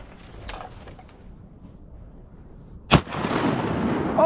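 A single sharp shotgun blast fired at a diving duck during a duck hunt, a loud close report standing out against quiet outdoor background noise, followed by a rising broadband rush.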